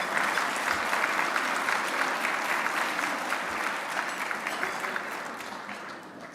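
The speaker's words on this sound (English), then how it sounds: "So let's all give a round of applause to all of our speakers so far in this conference today." A conference audience claps for the speakers, a dense, sustained round of applause from a large crowd that holds steady and tapers slightly toward the end.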